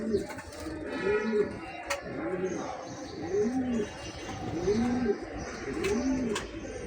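A pair of Beji pigeons coo in a steady series of rounded, repeating calls, close and clear, with faint background noise and occasional sharp clicks.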